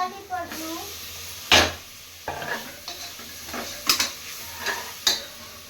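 Onions with ginger and garlic sauté, then tomato goes in, for cauliflower biryani in a home kitchen: a steady close sizzle broken by spoon scrapes and clatters against the pan, with a voice in the background.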